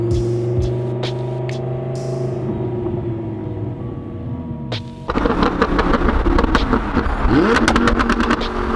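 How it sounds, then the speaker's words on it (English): An Audi R8 V10 with a titanium exhaust revs loudly: a held engine note drops away, then sharp throttle blips and rising, crackling revs follow close up, with no talk. "one of the best sounding R8s out there with the titanium exhaust"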